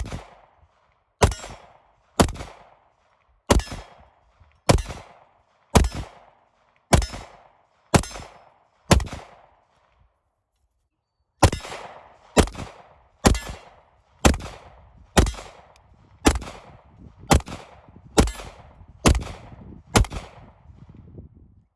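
A PSA Dagger 9 pistol fires about twenty sharp, loud shots in two steady strings, roughly one per second, with a short pause between the strings. No one speaks.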